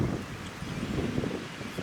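Wind buffets the microphone in a low, continuous rumble, loud and constant throughout.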